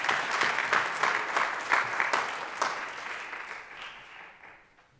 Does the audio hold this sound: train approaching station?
no